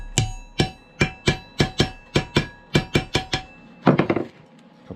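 A hammer strikes a metal chainsaw exhaust pipe for a ported Poulan Predator, about fifteen sharp ringing blows in a steady rhythm, close and loud, ending in a quicker flurry of lighter taps.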